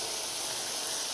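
Puffball mushrooms frying in oil in a pan: a steady, bright sizzling hiss, close and continuous, with no talking over it.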